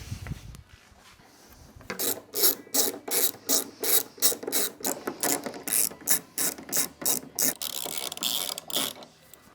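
Torx driver ratcheting out fairing screws on a 2024/2025 Harley-Davidson Road Glide, a steady run of sharp clicking pawl strokes, close and crisp, about a dozen in a row after a quiet start.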